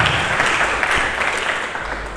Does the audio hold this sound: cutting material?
no